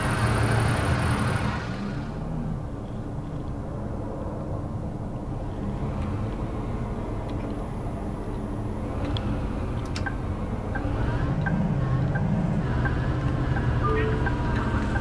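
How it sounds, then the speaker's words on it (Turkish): A Setra coach engine in the Bus Simulator 18 video game drones at a low, steady idle and cruise, with a brief hiss at the start and a gentle rise in engine pitch near the end. "Evet bu otobüsün sesi çok güzel arkadaşlar."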